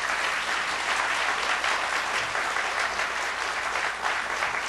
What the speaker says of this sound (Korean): 우리 큰 박수로 환영의 인사를 대신하도록 하겠습니다.